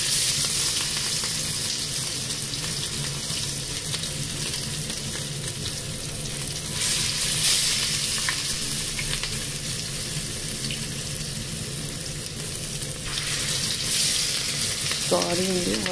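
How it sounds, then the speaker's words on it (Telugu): Marinated fish pieces frying in hot oil for an Andhra fish fry, a steady close sizzle throughout with bursts of louder crackling as pieces go into the pan, and a brief clink near the end. "సరే, ఇప్పుడు ఇందులో ఫిష్ పీసెస్ వేసుకుందాం."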